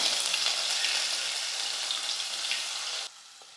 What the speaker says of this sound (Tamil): ஒரு பெரிய வெங்காயம் வந்து கட் பண்ணி வச்சுக்கிறேன் அதை சேர்த்துக்கிறேன்